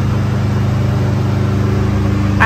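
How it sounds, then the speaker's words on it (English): A lawn mower's steady engine drone hums continuously at a distance, a low throbbing motor sound with no pauses or voices. "is mowing the grass"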